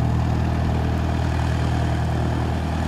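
A small airplane, N570JA, taxiing at Aurora Municipal Airport gives off a steady, unbroken engine and propeller drone. It holds at a fairly even level from start to end, with no voices.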